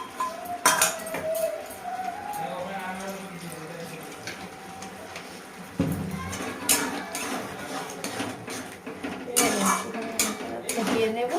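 Cornflour mixture stirred in a cooking pot, with a spoon clinking and scraping against the metal in irregular bursts. Faint voices murmur in the background of the kitchen.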